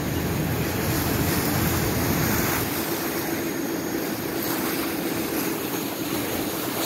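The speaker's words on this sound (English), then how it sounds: "I'm hoping you guys can hear me over the ferry and over the waves and everything else" Steady, loud engine rumble aboard a Galveston ferry mixed with the broad wash of waves, a continuous droning roar with no speech.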